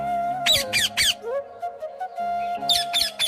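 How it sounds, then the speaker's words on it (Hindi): Cartoon magical parrots squawk in quick bursts, a few sharp high calls at the start and more at the end, over a steady music-like drone. "दोनों तोते सोहन को ढेर सारा सोना और पैसा देकर फिर उड़कर चले जाते हैं।"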